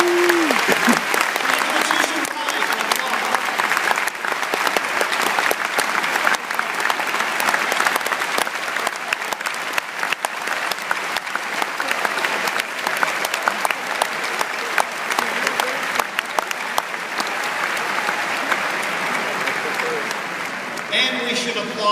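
Graduation audience applauding at a commencement ceremony, a dense, steady roar of many hands clapping that fills the hall at full volume for the whole stretch, with no voices over it.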